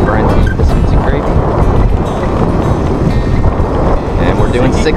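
Steady, loud wind rushing past the microphone aboard a small pocket yacht under a double-reefed main, with water noise mixed in throughout and no clear break.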